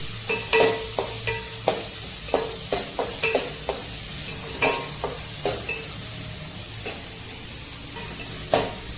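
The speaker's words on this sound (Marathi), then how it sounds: "आई आता चांगला कांदा असं परतून घेते" An onion sizzles gently while it is stirred and sautéed in a pan for prawn rice, with scattered scraping and clinking strokes of a utensil against the pan at an uneven pace, heard up close without any talking.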